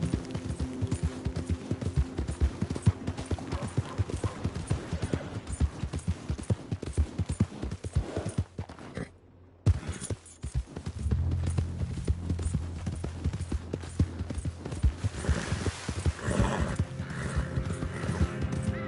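Rapid rhythmic hoofbeats of a galloping horse in a PS4 video game, close and continuous, with a whinny and game sound effects layered over the pounding.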